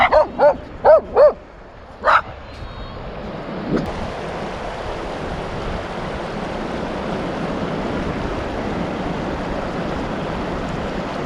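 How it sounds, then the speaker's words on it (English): A dog on a coastal road in Wales barks at people in a quick burst of four or five loud, close barks, then one more, before the sound gives way to steady wind and surf noise. "looks like the dog is determined to fend us away from whatever he's guarding"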